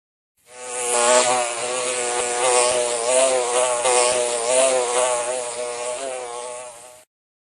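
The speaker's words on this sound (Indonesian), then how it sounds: "Lebah." A bee buzzes loudly and steadily up close, a continuous droning hum with slight wavering in pitch that holds for several seconds before cutting off.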